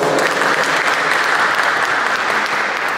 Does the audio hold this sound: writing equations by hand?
no